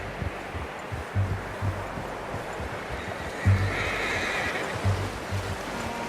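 A horse in Red Dead Redemption 2 whinnies a few times over a wash of flowing water and ambient outdoor noise, the calls brief and mid-distance.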